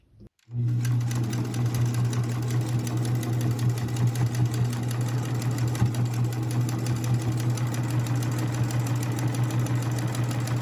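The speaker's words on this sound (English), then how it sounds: "So I'm going to start over here just past it, go all the way around, and stop here and backstitch." A sewing machine runs steadily and loudly, stitching around a fabric composition notebook cover with a constant motor hum and rapid needle rhythm from start to finish, without speech.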